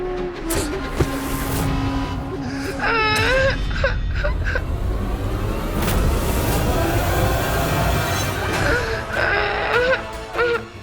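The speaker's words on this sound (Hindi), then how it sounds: "हमारे घर पे बच्चे की रोने की आवाज?" An infant cries and wails in a household scene over a dense, busy background of dramatic music and noise, with the cries rising in several bursts.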